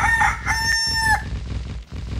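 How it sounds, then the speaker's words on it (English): A rooster crows at dawn in an animated kids' story, one clear cock-a-doodle-doo call lasting about a second, followed by quiet background. "The next morning, Rooster crowed at the crack of dawn."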